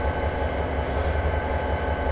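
Freight train rolling downhill through Cajon Pass in Train Simulator, a dense steady low rumble of engine and wheels, constant and unbroken, with no voices over it.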